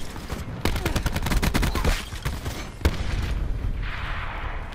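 Rapid bursts of automatic gunfire crackle in the video game Black Ops 4, dense and loud for a couple of seconds, then a single sharp shot and a sustained rumble.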